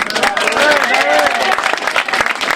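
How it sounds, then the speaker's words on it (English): Audience applause at a law talk, a dense burst of clapping from a room of people with a speaking voice running over it. "A round of applause, please, for David Allen Green."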